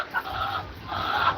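Hens in a coop of mixed black and brown birds give soft, close clucking and murmuring calls in two short bursts, with no talking.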